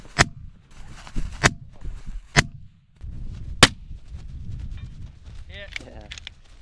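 Rifle shots at caribou and moose targets during a SIG Hunter Games shooting competition: four sharp, loud reports spaced about a second apart, with outdoor rumble and faint voices between shots.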